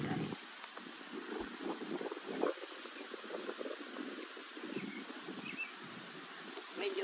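Steady wind blows across a lakeside campsite in a light drizzle, a soft continuous rushing that gusts slightly against the microphone, with faint rustling and no talk.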